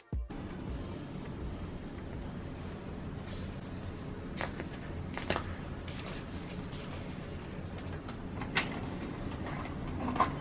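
A home printer being loaded and run to print sheets of labels, giving a steady low mechanical whir with scattered clicks and clunks of paper handling, close and moderately quiet throughout.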